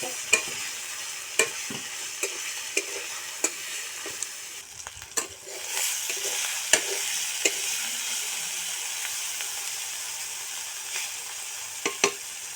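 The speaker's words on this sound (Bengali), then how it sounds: "এবার মশলাটা ভালো করে কষিয়ে নিব।" Tomato, turmeric and salt masala stir-fried in a pan for a Bengali river fish curry, with a steady close sizzle broken by scattered spatula scrapes and taps, the frying growing louder partway through.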